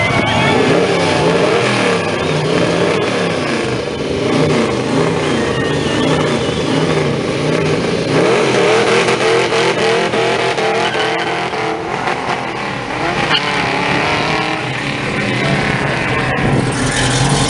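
A Pontiac Tempest muscle car with a 421 engine and Hilborn fuel injection revs hard at an outdoor muscle car show, its loud, rough roar rising and falling close by without a break for the whole stretch.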